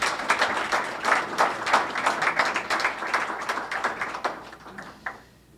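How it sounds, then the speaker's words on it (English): An audience applauds performers at a talk event in Hungary, with a moderate spread of clapping that fades out near the end. "have another round of applause for our great performers"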